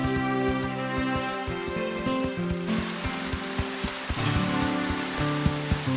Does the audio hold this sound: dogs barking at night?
no